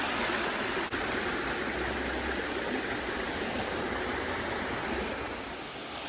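The Ravana waterfall at an adventure park rushes steadily in a dense, broadband roar that stays loud and unbroken throughout, with no voices over it.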